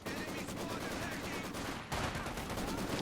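Dense, continuous small-arms and machine-gun fire from a Company of Heroes 2 battle, Soviet Guards infantry under suppression, rattling steadily for about two seconds before a louder burst picks up, with faint commentary mixed in.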